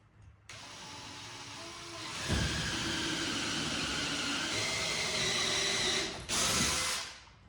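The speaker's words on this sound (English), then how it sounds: "So, drill your pilot hole." A power drill whirs steadily for several seconds at moderate volume while drilling a pilot hole for shop shelving, with a brief rev near the end.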